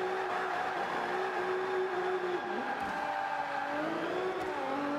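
Toyota Celica front-wheel-drive drift car in Forza 5 held in third gear, its engine revving high and steady with rising and dipping pitch as it slides, a continuous mechanical whine with faint tire noise and no talk.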